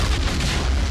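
An explosion on a cliff face brings mud, dirt and rock down, heard as a loud, dense, deep roar filling the whole second without a break.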